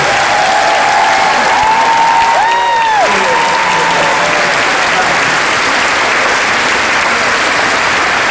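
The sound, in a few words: audience applause for four students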